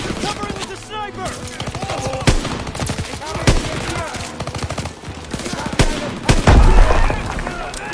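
Rapid gunfire in the World War II shooter Call of Duty WWII, dense volleys and sharp repeated shots crackling loudly, overlapping with shouted voices and battle noise.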